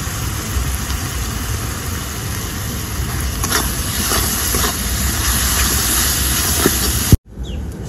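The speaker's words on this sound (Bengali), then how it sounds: "মশলাটাকে একটু ভালো করে কষিয়ে নেব" Spice paste sizzling and frying steadily in a pan while being cooked down for a loach fish dish, a continuous close hiss with a few faint scrapes, ending abruptly.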